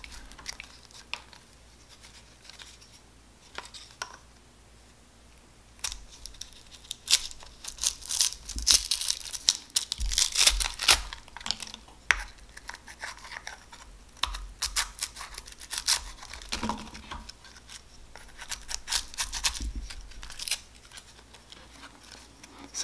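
Mica sheet being split and peeled into thinner layers, giving a long run of light crackling, ticking and crinkling in irregular clusters, close and fairly quiet with no talk.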